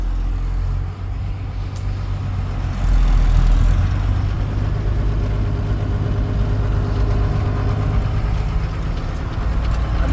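A modified Tata Signa BS6 truck engine starts up, rises to a heavier rumble, then settles into a steady low idle nearby. No one talks.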